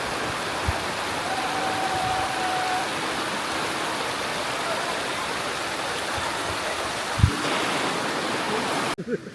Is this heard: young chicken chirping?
no